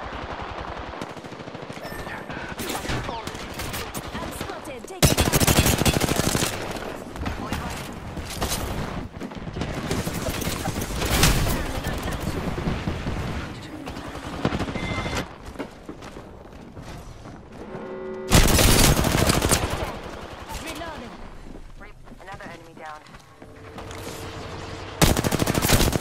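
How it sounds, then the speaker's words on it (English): Rapid automatic gunfire from Apex Legends, with sustained bursts and dense volleys that swell loudly in several waves, punctuated by sharp shots and mechanical clatter. "I'm taking fire."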